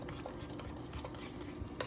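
A teaspoon clinks and scrapes against a bowl while stirring seasoning for homemade meatballs, with light, steady scraping and a few sharper taps close by, alone without talk.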